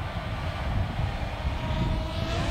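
A DJI Mini 2 drone on its first flight, giving a steady whirring buzz with a thin high whine over broad rumbling background noise, continuous and moderately loud.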